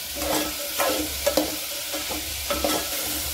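Green beans being stirred into hot spiced tempering in a pan, a steady frying sizzle broken by several scraping stirs of the spoon at an irregular rhythm, close and fairly loud with no talking.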